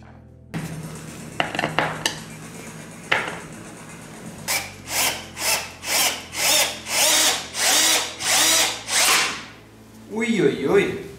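A power drill whirs in a run of repeated short bursts while drilling holes in wood, preceded by some clattering and handling noises, close and loud.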